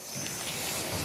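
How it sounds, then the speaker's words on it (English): Adhesive spray hisses steadily from an aerosol can in one short, continuous burst, close and fairly quiet, during sports taping prep. "it helps to get a little bit of adhesive spray"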